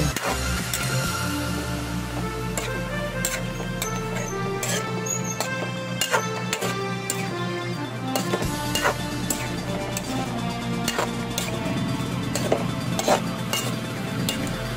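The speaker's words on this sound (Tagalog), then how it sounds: "Ang halo-haloin yan guys kasi parang hindi nagkulay yung tomato paste pag hindi mo siya hinahalo." A spoon scrapes and taps in a cooking pot as chicken is stirred with tomato paste, irregular clicks and scraping over a soft sizzle and steady background hum.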